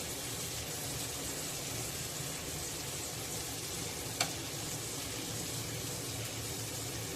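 Kotya fish pieces sizzle steadily as they fry in hot oil, a constant close hiss and crackle, with one brief sharp clink as a piece is gently turned over partway through; nobody speaks.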